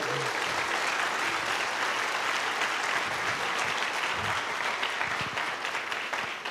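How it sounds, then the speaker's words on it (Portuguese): A church congregation applauds during a sermon, steady crowded clapping that holds at an even level throughout with a faint murmur underneath. "Pode aplaudir Jesus"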